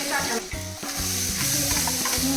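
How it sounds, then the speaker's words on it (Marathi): Loud, close sizzle of tempering spices crackling in hot oil for chicken cooked outdoors on a wood stove, a dense continuous hiss with a stirring scrape and a faint voice underneath. "फोडणी देत आहे"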